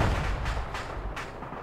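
Heavy explosions from the destruction of a supply cache in the military video game Arma, a few deep booms over a continuous low rumble with no talking.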